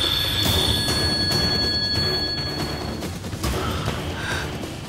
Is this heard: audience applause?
no